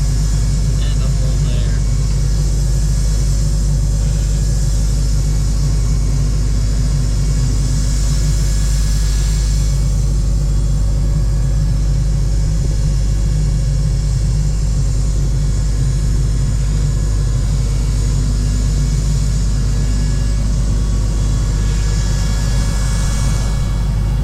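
Sandblasting a very rusty Kenworth W900 truck frame makes a loud, unbroken broadband roar and hiss that stays constant from start to finish and sits close to the listener.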